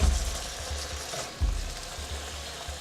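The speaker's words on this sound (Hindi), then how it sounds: "अब हम इसे करते हैं फ्राई चिकन को" Chicken pieces frying in a pan over medium heat on a kitchen stove, a continuous close sizzle with a few louder bumps from stirring or shifting the pan.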